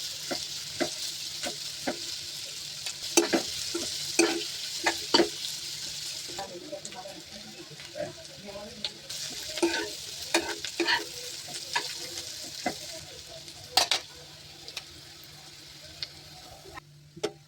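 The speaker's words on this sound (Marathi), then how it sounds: "तेलात चांगला भाजून घेतलाय कांदा." Onion fries in oil in a pan, a continuous soft sizzle broken by repeated stirring clicks and scrapes, close and quiet, with no talking.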